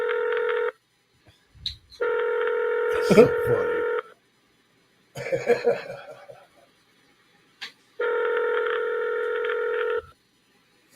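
Phone ringback tone while waiting for a call to be answered, three steady two-second rings separated by pauses, with brief talk and laughter in the gaps.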